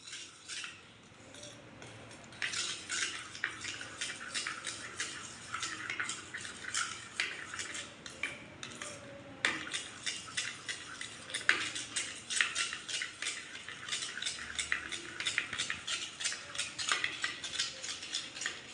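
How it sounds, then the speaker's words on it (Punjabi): A spoon stirring spices into yogurt in a bowl, with quiet, steady clinks and scrapes of metal against the dish repeating rapidly and close by for the whole stretch, no talking. "ਹੁਣ ਇਹਨਾਂ ਸਾਰੇ ਮਸਾਲਿਆਂ ਨੂੰ ਆਪਾਂ ਦਹੀਂ ਦੇ ਵਿੱਚ ਚੰਗੀ ਤਰ੍ਹਾਂ ਮਿਕਸ ਕਰ ਲੈਂਦੇ ਆ"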